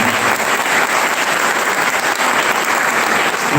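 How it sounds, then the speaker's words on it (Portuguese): Applause for a visiting church choir at a festive Catholic Mass for Saint John Bosco, a steady dense wash of many hands clapping that fills the whole stretch at full loudness. "a eles esta salva de palmas"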